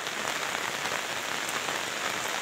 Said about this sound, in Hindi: आज हो रही है बहुत भयंकर बारिश।